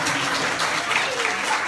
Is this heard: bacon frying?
no